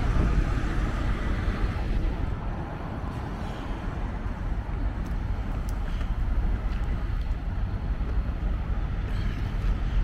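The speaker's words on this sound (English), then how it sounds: "The wind's been whipping real hard." Strong wind buffets the microphone at a TA truck stop in Baileyton, Tennessee, a continuous low rumbling roar with gusty swells and faint traffic or engine noise underneath, no voices.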